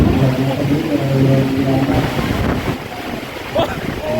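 Loud, constant storm wind roars and buffets the microphone at an outdoor Thai merit-making festival, with a faint voice and a brief squeak cutting through the storm noise.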